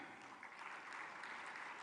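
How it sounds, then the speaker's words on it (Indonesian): A large audience at a mass KUR small-business loan signing and launch event claps in a steady, continuous wash of applause, faint and even, with no voices over it. "kita beri tepuk tangan"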